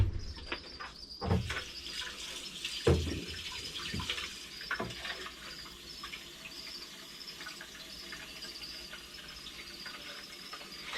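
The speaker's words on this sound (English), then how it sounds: "I'm going to go ahead and add the right amount of water into this guy" Water runs and splashes steadily from close by as it is poured into gecko food, with a few clunks near the start and a faint high chirping in the background.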